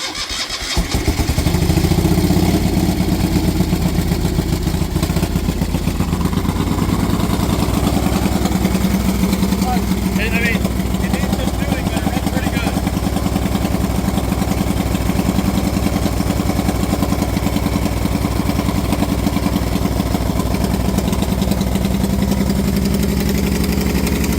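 The engine of a Moto Guzzi 850T cafe racer motorcycle starts and then keeps running, a loud, close, steady rumble that holds at an even idle throughout.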